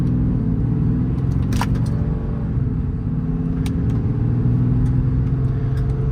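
A 2022 Ram 5500 crew cab 4WD diesel with a 6.7 Cummins and Aisin automatic drives down a sloppy wet road. Its low diesel rumble is steady and loud from inside the cab, with a few light ticks and clicks on top.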